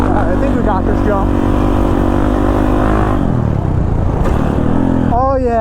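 Kawasaki KX450 dirt bike on a motocross track, its engine revving hard and loud with rising and falling pitch as the throttle opens and closes, with a voice talking over it.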